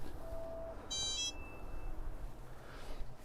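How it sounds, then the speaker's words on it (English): During a home strength workout, an electronic alarm gives a brief cluster of high, bright beeps, followed by a fading tone. It sits over a steady low background hum, and no one speaks. "Need to adjust that alarm."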